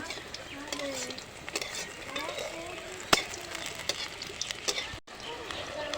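Crisp coriander leaf pakoras frying two at a time in a pan of oil, a soft continuous bubbling sizzle with occasional light utensil taps, close but fairly quiet.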